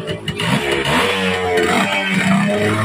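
A Kawasaki two-stroke engine idling and revving close by, a buzzy, rising-and-falling engine note that holds loud and steady for a few seconds.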